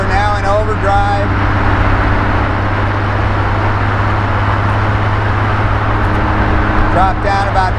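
Engine of a 1976 Triumph TR6 with overdrive, a steady loud drone at driving speed while the overdrive engages, holding an even hum with faint voices at the start and end.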